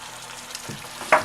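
Pork juices poured into a hot pan with pork chops, giving a steady low sizzle that flares into a brief, louder hiss near the end as the liquid hits the oil.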